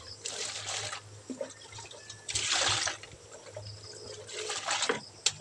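Cut bullet tuna is rinsed in water by hand, with intermittent bursts of splashing and sloshing separated by quieter pauses over a low steady hum.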